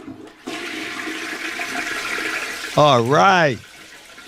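A toilet flush sound effect: a steady rush of flowing water lasting about two seconds, followed by someone speaking briefly as the water cuts off.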